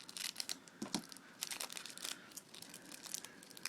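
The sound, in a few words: tearing open a trading card pack wrapper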